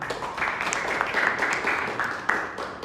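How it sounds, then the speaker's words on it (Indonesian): A small group of eighth-grade students claps in a short burst of applause in a classroom, steady and moderately loud, lasting a few seconds. "berikan tepuk tangan"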